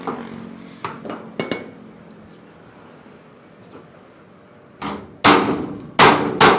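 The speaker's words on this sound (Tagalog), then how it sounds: "Gano'n mo yung martilyo" Sharp metallic hammer strikes on pitted, brittle metal during bulk truck repair ring out, a few scattered blows early, then a quiet pause, followed by several loud, heavy clanging hits close by.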